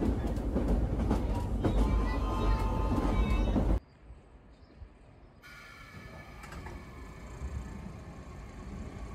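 A 1938 stock London tube train running on the Isle of Wight gives a loud, continuous rumble that drops abruptly to a quiet interior hush, then builds back into moderate running noise.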